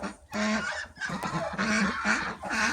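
Several nearby ducks quack and honk in loud overlapping bursts, calling almost continuously.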